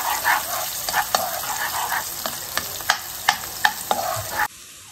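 Onion frying with garlic in a pan for biroin bhat, a steady close sizzle with a few sharp stirring clicks and scrapes, alone with no talk, cutting off just before the end.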